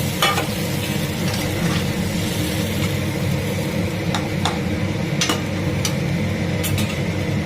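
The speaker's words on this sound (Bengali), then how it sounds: "এবারে গরম জল দিয়ে দিলাম। এবারে আমি কুক হতে দেবো এটাকে।" A spiced pointed gourd curry sizzles and bubbles steadily in a hot pan after hot water is added, with occasional sharp clicks and stirring clatter over the constant frying hiss.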